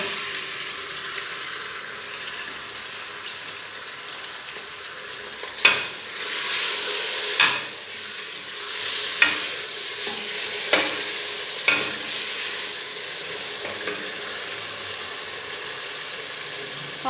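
Meat for shaljam gosht frying in a pot with cardamom, a steady sizzle and hiss broken by several sharp scraping clatters as it is stirred, close and fairly loud with no talking.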